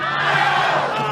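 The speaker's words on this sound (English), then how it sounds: "5 hits and 3 runs here in the first, and the crowd is into it." Crowd noise at a Little League baseball championship game between Kentucky and Ohio, a steady wash of many voices cheering and calling out, loud and continuous throughout.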